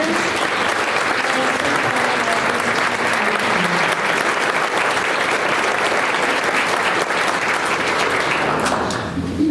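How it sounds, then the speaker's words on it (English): Sustained applause from a large audience at an LGBTQ awards ceremony honoring employers, a thick, even roar of clapping that holds steady for nearly ten seconds with faint voices mixed in. "Let's give a round of applause for the courageous employers."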